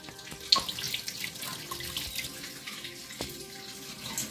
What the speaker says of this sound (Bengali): মিরিক মাছ আর রুই পোনা এনেছে বাজার থেকে, আমি কি ধুয়ে নিচ্ছি